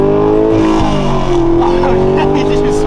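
A Camaro accelerates hard on a full-throttle pull, its engine holding a loud, close, sustained roar with a strained tone that slides slightly down and back up.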